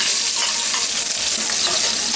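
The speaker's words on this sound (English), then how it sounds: "The oil is now hot, and I'm putting the onion first." A medium onion fries in half a cup of hot oil on high heat, a loud, dense, continuous sizzle with stirring close by and no speech.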